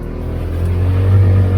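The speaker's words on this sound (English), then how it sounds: "Oh yeah, a little SUV." An SUV driving past on an icy road during an ice storm in Mississippi, heard as a steady, loud engine and tyre drone that swells slightly as it nears, with no talking.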